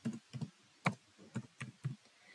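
Keys on a computer keyboard are pressed one by one while a password is entered during a Linux subsystem setup, about seven distinct soft clicks in an irregular rhythm, close and quiet with no voices.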